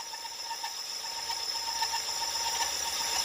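A blade grinds and scrapes against hard material in quick rough strokes, close and continuous, with a gritty rasping texture and no talking.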